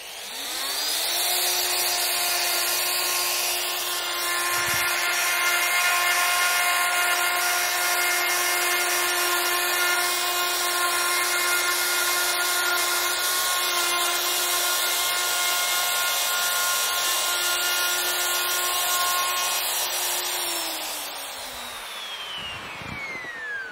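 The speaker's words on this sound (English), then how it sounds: "Now I'll carry out the second milling groove a little deeper." A Festool router cuts a groove in a kitchen worktop along an APS 900/2 jig, a steady high motor whine with cutting noise running continuously at close range, then spinning down near the end.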